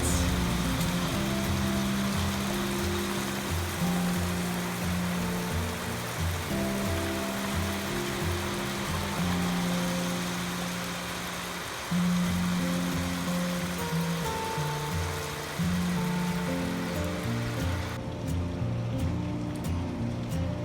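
Heavy rain pours steadily over an organic garden, a dense continuous wash of patter with a low hum underneath, unbroken for the whole stretch.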